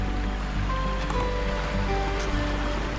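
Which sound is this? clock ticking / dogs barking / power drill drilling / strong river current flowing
strong river current flowing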